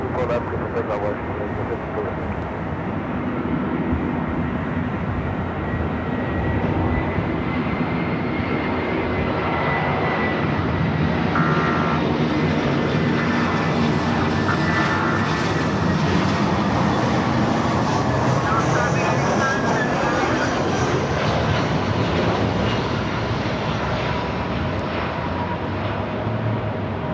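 An airliner taking off from runway 24 left at Los Angeles airport, a loud sustained jet engine roar that swells and holds throughout, with radio voices underneath.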